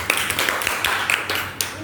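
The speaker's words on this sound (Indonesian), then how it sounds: "Tepuk tangan buat kelompok visual." Applause from a classroom audience for a student presentation group during a teaching practicum session, a steady wash of many hands clapping close by for about two seconds, with no speech over it.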